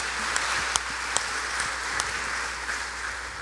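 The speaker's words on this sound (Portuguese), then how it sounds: "eu queria que você desse uma salva de palmas para essa mulher aqui" A church congregation applauds steadily, a soft, even patter of many hands clapping at a moderate distance with a few sharper claps standing out.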